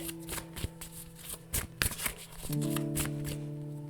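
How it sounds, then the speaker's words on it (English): Tarot cards being shuffled in quick riffling and tapping bursts, close up, followed by a steady low hum. "I'm going to try to shuffle on camera"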